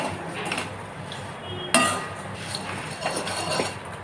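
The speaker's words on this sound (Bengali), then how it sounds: "মুড়িটা দিয়ে নাড়াচাড়া করতে থাকবো" Puffed rice being stirred in a pan with mustard oil, dried red chillies, cumin and fennel: soft dry rustling and scraping, a sharp metallic clink of spoon on pan partway through, close-up and without voices.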